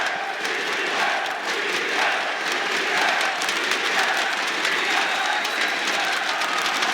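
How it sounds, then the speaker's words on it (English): Esports arena crowd at a Rainbow Six Siege playoff match, Ninjas in Pyjamas against BDS: a dense, sustained roar of many voices that stays loud and even throughout, with no talk over it. "there's some loud booing from the Ninjas in Pyjamas side."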